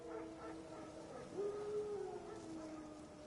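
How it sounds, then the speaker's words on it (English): Wild dogs in the game The Witcher 3, a distant drawn-out howl rising and holding above soft yips and whimpers, faint against quiet ambient noise. "Wolves? No. Wild dogs."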